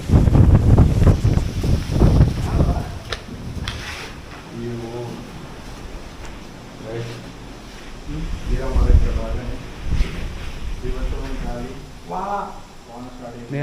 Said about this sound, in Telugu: గాలి అయితే చాలా వచ్చింది